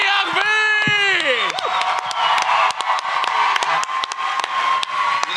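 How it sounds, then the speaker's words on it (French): A comedy show audience applauds, cheers and whoops loudly and steadily throughout, with dense clapping, excited shouts and voices mixed into the crowd noise. "applaudissez ce gars-là pour le vrai"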